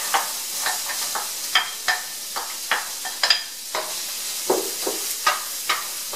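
Chopped onion and carrots sizzle in butter in a pan, a steady close hiss broken by frequent sharp pops and spatters, with no talking.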